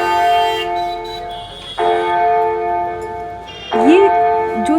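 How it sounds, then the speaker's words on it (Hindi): A clock tower bell at a town crossroads chimes on the hour, loud sustained ringing tones that restart with each new strike and decay slowly over a faint street background. "यहाँ पर जो है हर 1 घंटे में टावर में घंटी बजती है, तो वो भी मैंने कैप्चर करने की कोशिश की"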